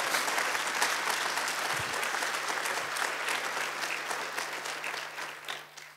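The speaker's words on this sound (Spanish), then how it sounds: "Dale fuertes aplausos al Señor." A Spanish-speaking church congregation claps during a sermon, a dense sustained patter of many hands with a steady low hum beneath, gradually tapering off over about six seconds.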